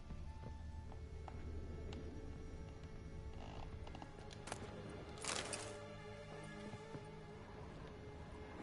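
Roach the horse in The Witcher 3, faint hoof clip-clops and a snort over a steady game background hum, with one louder rustling burst partway through.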